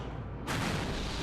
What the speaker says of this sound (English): Just firing into the courtyard of the castle.